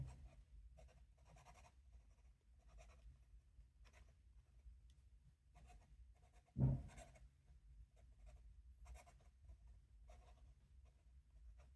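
A dip pen with a soft nib scratches faintly across paper in short strokes, quiet and close, with one louder tap partway through.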